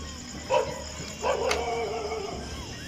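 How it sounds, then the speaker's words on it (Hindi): Dogs bark at night by a roadside, two separate bursts of barking, the second one longer and trailing off, at a moderate distance over a quiet background hum. "जैसे ही आवाज़ आनी चालू हुई कुत्तों ने भौंकना स्टार्ट कर दिया है"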